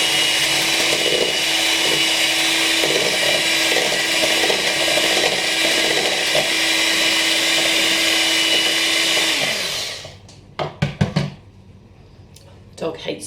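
A kitchen blender whizzes an oat pancake mixture in one loud, continuous burst of about ten seconds before cutting out, followed by a few sharp knocks and clatters as it settles.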